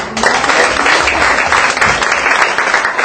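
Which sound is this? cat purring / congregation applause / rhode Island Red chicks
congregation applause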